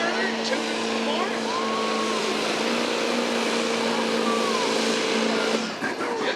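A 6.4 liter diesel pulling truck winds up at a county fair truck and tractor pull, its engine a sustained steady drone held for several seconds, with an announcer talking over it.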